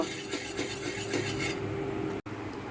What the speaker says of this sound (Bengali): আমি এইভাবে নেড়ে নেড়ে এটাকে ঠান্ডা করে নেব